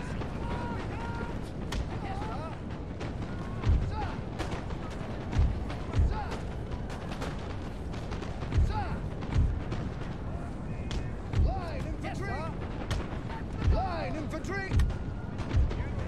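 Napoleonic-era artillery in Napoleon: Total War booms in scattered thuds every second or two, set back in the mix under continuous battlefield noise and a voice talking.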